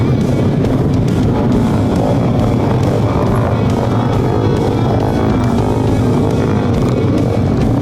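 Loud, continuous engine roar from several motorcycles close by in a large group ride on a busy main road in Pangkep, South Sulawesi, with throttles rising and falling in a dense, overlapping rumble and no pauses.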